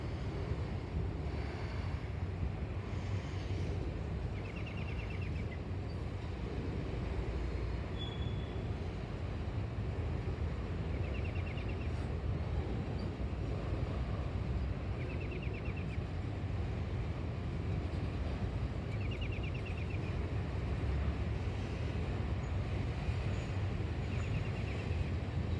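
A long freight train of empty auto racks, hauled west by a single locomotive near Oak Harbor, rumbles steadily close by with a constant low roar and wind buffeting.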